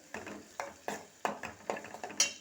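Ginger garlic paste is stirred into a tomato capsicum curry in a pan, with a spoon scraping in about eight regular strokes, soft and close.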